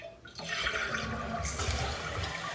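Water rushes into a newly installed toilet tank as it is drained and refilled, a sudden surging gush that starts after a short quiet moment and then holds steady and close, with no voices.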